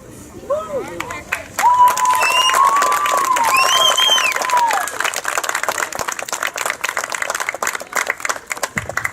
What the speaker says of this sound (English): Please stand and give these young ladies a very well-deserved round of applause